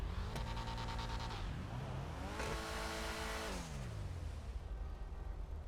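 A car engine in GTA Online revs up sharply twice with a raspy, rising tone, dropping back between the bursts, loud and close with no talking over it.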